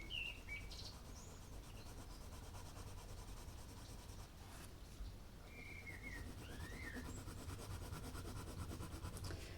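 A blackbird in a garden sings faint, fluting phrases in the distance over a steady background hiss, with a few short whistled notes spaced apart.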